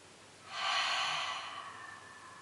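A single deep, breathy intake flows into a soft, sighing exhale during a spine and core yoga session. It is close and gentle, with no talking.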